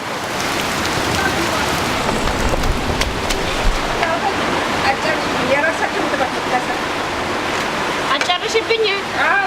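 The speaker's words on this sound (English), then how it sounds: "A torrential downpour is happening outside" A heavy torrential downpour in Ethiopia roars steadily, dense rain pounding surfaces up close, with a voice faintly talking underneath.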